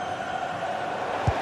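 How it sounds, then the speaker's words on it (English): Football stadium crowd in a video game, a steady dense roar of many voices throughout, with a short low thump near the end. "just listen to this crowd. They want a bit more."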